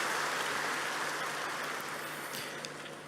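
A large crowd at a Muhammadiyah religious gathering at UMS applauds, producing a dense, rain-like wash of clapping that starts strong and gradually tapers off over a few seconds.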